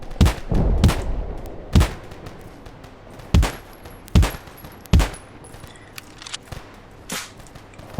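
Gunfire in the video game Poly Field: sharp single shots crack out at irregular intervals, loud and close, with a denser burst of firing at the start.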